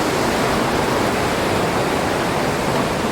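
Shepperd's Dell waterfall on a trail, a loud, continuous broadband rush of falling water heard up close, steady throughout with no voices.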